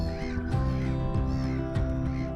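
A seagull calls repeatedly near a Drascombe Lugger at its mooring, the harsh cries coming in several bursts over steady background noise.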